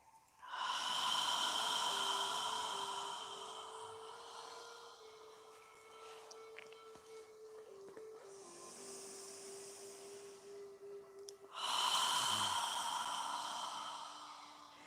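Slow, steady yoga breathing, long audible inhales and exhales drawn in and out in a calm rhythm, close and quiet with no talk over it.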